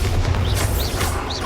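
Bombarda spell explosion in the Hogwarts Legacy video game, a loud booming burst with dense low rumble sustained through the moment, sparkly magical whooshes sweeping over the top.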